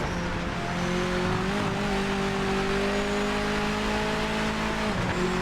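A race car engine in the Project Motor Racing video game, loud and steady as it drones at high revs with slight pitch shifts, briefly dropping near the end as if lifting off or shifting, with no talking.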